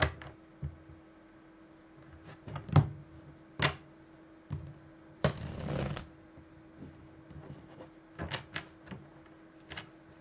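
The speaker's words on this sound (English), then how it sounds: "Let me shuffle the cards." Tarot cards are shuffled and handled close by, with scattered sharp snaps and riffles and one longer riffling burst in the middle, against a quiet room.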